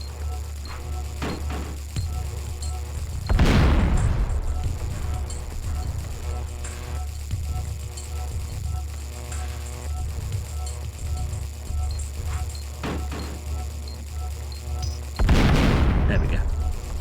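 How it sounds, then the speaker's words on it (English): Grenade blasts in the video game Oddworld: Abe's Oddysee, two heavy booming explosions several seconds apart with rumbling decay over ambient game sound, a voice talking in between. "I'm gonna have to use a grenade here just to get rid of it."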